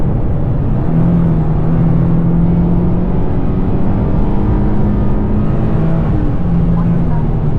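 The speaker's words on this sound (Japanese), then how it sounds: "エンジンばかりうなって速度が増えない" A Toyota Crown with a 3.5-liter V6 strains up a steep grade, heard from inside the cabin as a steady low engine drone and road rumble with faint rising tones, continuous and fairly loud throughout.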